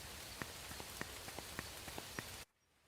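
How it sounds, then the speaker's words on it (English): Rain sound effect in a video game, a steady soft patter of falling rain with scattered sharper drop ticks, fairly quiet, cutting off abruptly near the end to near silence. "It swapped to a different sound. It's still rain."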